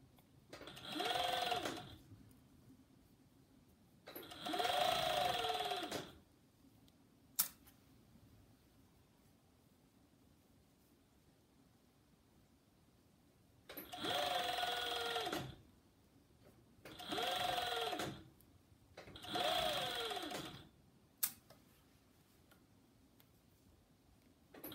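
A sewing machine stitches a child's tee shirt in five separate bursts of rapid whirring, each lasting one to two seconds, with quiet pauses and a few sharp clicks between them.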